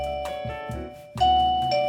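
A plugged-in wireless doorbell receiver rings out a bright electronic chime, two sustained tones followed by a louder repeated pair, clear and close with a ringing decay.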